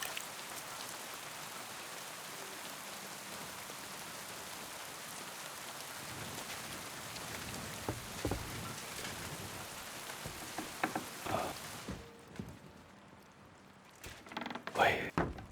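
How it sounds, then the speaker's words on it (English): Steady rain pours outside in Kingdom Come: Deliverance II, a dense, even hiss with occasional thumps and footsteps mixed in, then it cuts off abruptly as the setting moves indoors, leaving a few wooden knocks. "Boy, glad to get out of that rain."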